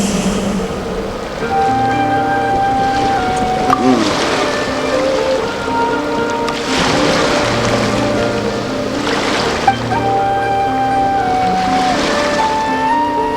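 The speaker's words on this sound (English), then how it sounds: "Go to where you can hear the sound of the waves." Ocean waves from the video game Genshin Impact wash in steady, loud swells, blended with a sustained melodic music bed that runs throughout.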